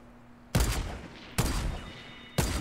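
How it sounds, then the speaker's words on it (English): In the video game Fortnite Battle Royale, a shotgun fires three loud, sharp blasts spaced about a second apart, each with a quick decaying tail. "I actually know that's the shotgun."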